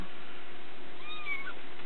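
A single cat meows once, clear and close, inside a puppy whelping kennel, a short rising-and-falling call with no talking around it.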